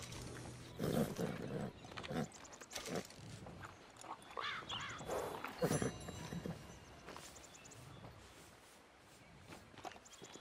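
Horse hooves clip-clop at a walk in the Red Dead Online video game, a steady run of soft thuds with brief snorting and a whinny-like call mid-clip, close and moderately loud over faint background ambience.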